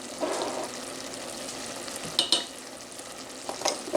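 Ground beef sautéing in a pan for keto taco soup, a steady close sizzle broken by a few scraping stirs of a utensil, with no talking.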